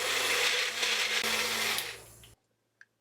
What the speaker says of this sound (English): So I just use this little magic bullet here, but you can use whatever you have.